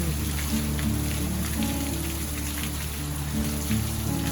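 Sudden heavy rain pours down at a resort in Palawan, Philippines, a steady dense hiss of drops on surfaces with a low background hum and no voices.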